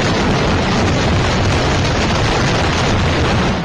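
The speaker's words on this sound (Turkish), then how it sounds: "Haşere ilacı fabrikasında meydana gelen patlamada 6 kişi hayatını kaybetti." Explosion at a pesticide factory in Jiangsu, China, heard as a loud, sustained, rumbling roar of broadband noise filling the whole stretch without letup.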